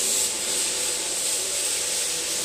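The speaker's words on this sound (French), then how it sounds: "quand il applique la monobrosse, il se met à la moitié de la brosse." A single-disc floor machine sands a concrete floor being prepared for epoxy resin paint, giving a steady, even abrasive whir that holds at the same level throughout with no voices.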